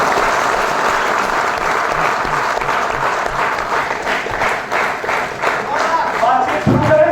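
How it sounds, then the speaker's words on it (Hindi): An audience at a seminar talk breaks into loud, sustained clapping that fills about seven seconds, with a dense patter of many hands and occasional thumps. "एक बार ताली बजा देंगे।"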